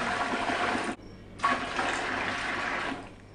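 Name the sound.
water poured into a pressure canner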